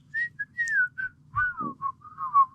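A person whistles a short, lilting melody in several separate phrases, clear and close, with soft low background noise and no speech.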